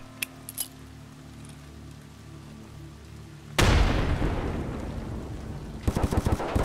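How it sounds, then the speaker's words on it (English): A grenade blast in the game Escape from Tarkov: after quiet ambient sound, a sudden loud broadband explosion hits and rumbles away, followed by a brief crackle of debris or gunfire near the end. "Throwing a grenade."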